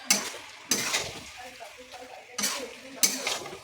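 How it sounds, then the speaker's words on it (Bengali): Cabbage with fish head being stirred in a pan, with four sharp scraping strokes of a spoon against metal, each trailing off into a soft sizzle, close and fairly quiet. "দিয়ে ভালো করে আবার নেড়ে নেবো"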